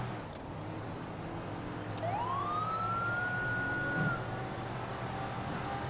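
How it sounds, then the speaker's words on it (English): A police car siren using the Code 3 Mastercom B modded tone in GTA V rises into a single long, clear wail partway through, heard over the steady drone of a moving vehicle engine. "I did switch over to the Code 3 Mastercom B in the Modern Siren Pack on lcpdfr.com"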